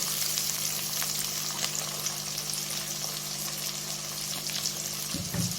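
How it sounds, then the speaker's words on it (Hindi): Garlic and ginger fry in hot oil in a pan, giving a continuous, fairly loud hiss and crackle with no pauses and no voices. "अब मैं इसमें लहसुन और ये अदरक जो है वो भी शामिल कर दूँगी। इसको भी करते हैं फ्राई इस तरह।"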